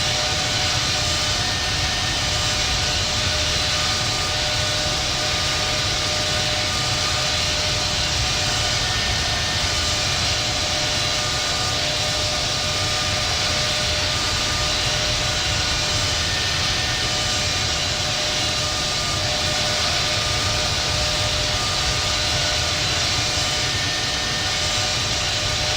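Boeing 777-200 jet engines roar steadily through a simulated takeoff roll in the Infinite Flight game, a continuous broadband rumble with a high whine, loud and unbroken throughout.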